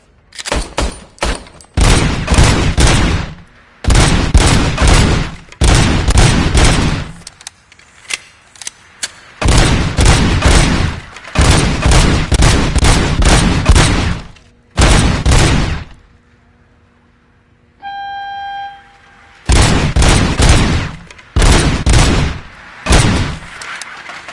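RoboCop's service weapon firing in RoboCop Rogue City, loud rapid bursts of gunfire in repeated clusters separated by short pauses, with a brief electronic tone in one gap.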